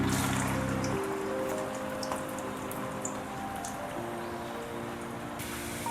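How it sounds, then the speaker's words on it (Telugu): Potato fries for French fries sizzle in hot oil, a steady close crackling hiss like light rain that keeps an even level throughout, with faint tonal hum in the background and no speech. "ఇవి ఈ విధంగా ఆయిల్లో ఫ్రై అవుతూ ఉంటాయి."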